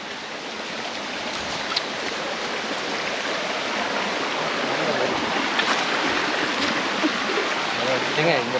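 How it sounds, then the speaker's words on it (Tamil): A stream of water runs over rocks beside a hill trekking path at Azhagar Malai near Madurai. It makes a steady, full rushing wash that stays constant throughout, with no one speaking. "ரொம்ப அந்த நீரோட சத்தம் ரொம்ப சூப்பராக இருக்குங்க."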